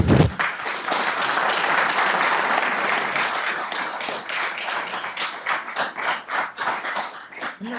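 Audience members at a public utility board meeting clap together, a full burst of applause that thins into scattered, separate claps before dying out.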